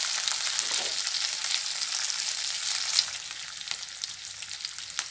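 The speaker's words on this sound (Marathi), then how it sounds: "आता त्यामध्ये मी ढोबळी मिरची घालणार आहे, ती सुद्धा जास्त आपल्याला परतायची नाही आहे" Onion and capsicum sizzle steadily in a hot pan while being sautéed for paneer chilli, making a loud, continuous frying hiss with occasional stirring clicks and no voices.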